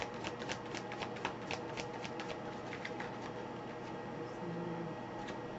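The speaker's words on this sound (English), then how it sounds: "Let me just shuffle." Soft, rapid riffling and flicking of tarot cards being shuffled, close by, in quick repeated bursts.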